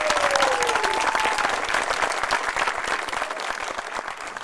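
An audience at a middle school 8th grade graduation claps and applauds steadily, a dense sustained patter of many hands that fades slightly toward the end, with a faint whistle early on.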